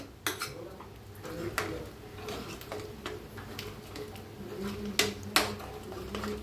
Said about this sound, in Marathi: असं चांगलं का नाही चमच्याने मॅच करायचं